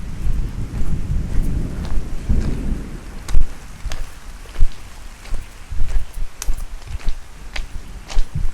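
Steady rain falls in a jungle by an abandoned train track in Singapore, with low thunder rolling early on and sharp drips and patters scattered throughout.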